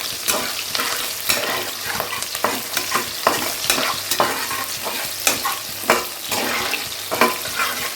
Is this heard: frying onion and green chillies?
yes